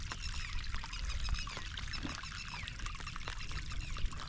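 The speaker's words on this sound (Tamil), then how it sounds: "அது கொஞ்சம் மேடாக இருக்கிறதுனால தண்ணி அப்படியே பொங்கி ஊற்றிருக்கு" Water gushes and pours steadily into a low-lying paddy field from higher ground, a continuous splashing rush with small bursts, heard close and on its own.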